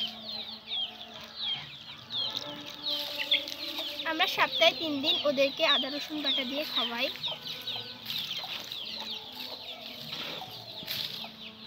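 Chickens cluck and call close by in a busy, overlapping chorus, with a person talking over the birds.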